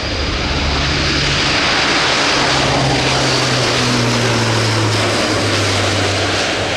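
An Airbus A400M turboprop transport takes off at an air show, its engines a loud, sustained propeller roar with a slowly shifting pitch.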